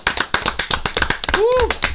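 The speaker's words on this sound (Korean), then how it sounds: "야, 박수." Quick hand claps from a few people on a Korean talk livestream celebrating a court ruling, sharp taps mixed under lively overlapping voices, with a brief cheer near the end.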